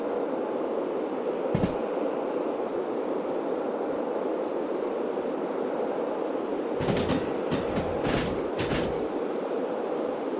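Train rolling on rails in the Derail Valley simulator game, a steady low rumble with a thud early on and a burst of clacking wheel impacts near the end, no talk.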